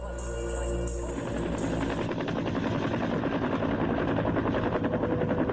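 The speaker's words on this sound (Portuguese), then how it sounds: "pareciam com o barulho de um helicóptero" A helicopter's rotor chops steadily, a low droning hum giving way to a fast, even thumping of blades that stays loud and continuous throughout.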